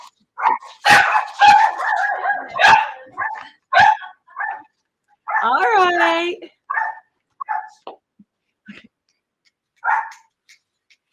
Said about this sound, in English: Okay, dog, settle down.